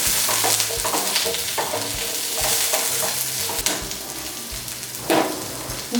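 Onion pieces fry and sizzle in a pan with bell pepper and baby corn cooking, a steady crackling hiss broken by scraping stirs of a spatula, close and alone.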